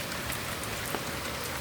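Steady rain falls at night, a dense, even hiss of drops on surfaces with no breaks, close and moderately loud, with no talk.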